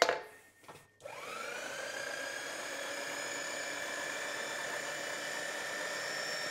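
A Bridgeport milling machine fly cuts a Miata turbo manifold held in a vise, giving a steady high whine after a brief start-up, faint and continuous with no talking.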